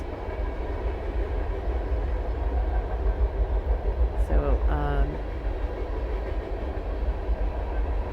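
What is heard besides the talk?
train passing on nearby train tracks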